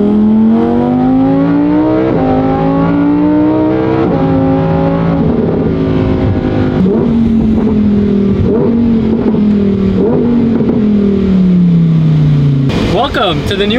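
A Lamborghini Huracan Tecnica engine revs loudly and pulls away, its rising and falling tone sweeping through several throttle changes, with voices over it.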